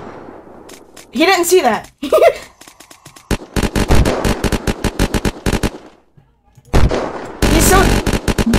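Unturned gunfire, including Grizzly shots, crackling in fast rhythmic bursts, loud and close, with a pause before a dense final volley; excited voices talk over the early part.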